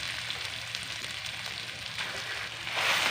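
Samosa filling of mashed potato fries in a pan, giving a dense, continuous sizzle close to the mic that swells louder toward the end.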